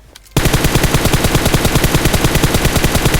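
Sustained automatic M4 rifle fire in a mobile shooter game, a fast, steady stream of loud, close shots with no talking.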